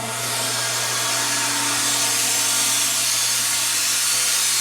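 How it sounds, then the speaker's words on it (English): Carpet extraction vacuum running steadily during stain removal in a car interior detail, a loud, continuous broadband whoosh with a constant motor hum, unchanging throughout with no talking. "turn on the vacuum."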